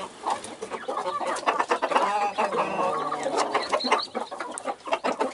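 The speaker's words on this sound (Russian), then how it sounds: "куры стали активные сразу, моментально" A flock of hens clucks busily and continuously up close while pecking at scattered confetti and festive shell fragments in the evening, with overlapping calls and scratchy movement.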